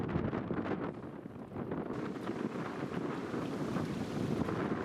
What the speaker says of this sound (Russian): Только вот ветер на этом участке стал уже не шуточным, и бороться с ним уже было неохота.